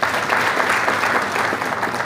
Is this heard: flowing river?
no